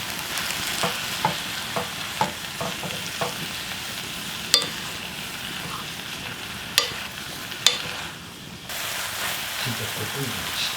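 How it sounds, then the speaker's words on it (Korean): Kimchi and onion stir-fry in a little perilla oil in a pan, giving a continuous soft sizzle broken by repeated scraping and tapping of a utensil against the pan. A faint voice is also heard. "김치하고 양파를 넣고 볶아"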